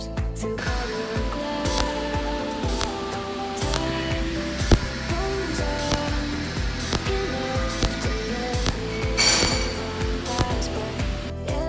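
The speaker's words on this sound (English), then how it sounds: "We first use current 10 for welding." Iron plate 2.0 mm thick is welded at current 10 up close, a crackling, sputtering hiss broken by sharp clicks and snaps at irregular intervals over steady background noise.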